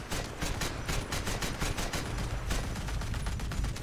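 Rapid naval gunfire from boat-mounted guns in the War Thunder video game, a dense, continuous volley of loud staccato shots with bursts overlapping throughout, alone without talk.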